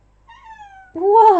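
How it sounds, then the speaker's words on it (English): A pet cat meows twice up close: a thin, drawn-out first call, then a louder, fuller meow with a rising and falling pitch. "Like she has different meows"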